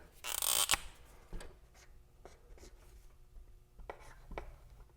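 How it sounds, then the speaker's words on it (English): Marker or pen writing a measurement onto a board in a car restoration workshop, a few scratchy strokes up close, with one louder burst of scraping at the start, then lighter, intermittent squeaks and taps. "I'm just gonna write that on our board here."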